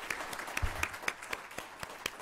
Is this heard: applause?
yes